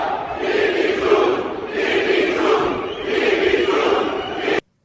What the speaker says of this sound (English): you can hear they are chanting Bibi June, Bibi Netanyahu